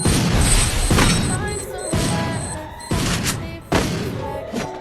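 Grenade blasts in a squad-versus-squad shooter game come as several heavy booms, each followed by a crackling, decaying roar, loud and close, with faint voices underneath.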